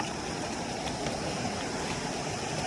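Water of a stream rushes steadily on a trek to a waterfall, a dense, constant hiss and gurgle heard close by without a break.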